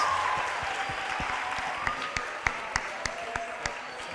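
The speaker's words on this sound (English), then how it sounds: "Give him a round of applause." Audience applause after a keynote, a moderate wash of clapping that thins out, leaving a few distinct, louder individual claps spaced rhythmically near the end.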